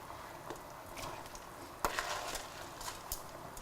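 Rinsed rice being stirred in a pot, soft scraping and sizzling with occasional sharp clinks of a utensil against the pan, quiet and close with no talking.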